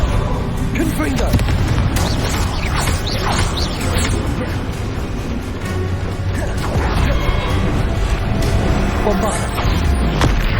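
Confringo fire blasts in the Hogwarts Legacy video game crack and boom amid clattering, crashing combat effects and steady game music, loud and close, with voices in the mix.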